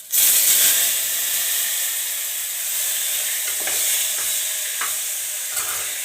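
Spice tempering sizzling loudly in hot oil for a brinjal vegetable curry, a sharp hiss bursting up at the start and then settling into a steady close frying fizz with a few faint clinks.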